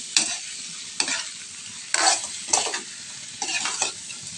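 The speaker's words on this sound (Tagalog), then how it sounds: "Haluin lang natin para magpantay yung pagkaluto." Shrimp frying in garlic butter is stirred in a pan, giving four or five separate scraping bursts of spatula strokes over a low, steady sizzle. No one talks.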